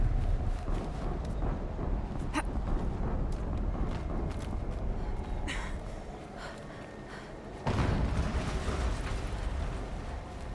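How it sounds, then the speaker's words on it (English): An explosion in the video game Horizon Zero Dawn breaks out as one sudden, loud rumbling burst late in the clip. Before it comes a continuous rough ambient roar with scattered brief crackles, and no voices are heard. "An explosion."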